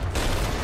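Cannon fire in the pirate game Sea of Thieves, a loud booming blast with a dense, roaring burst of noise sustained through the moment.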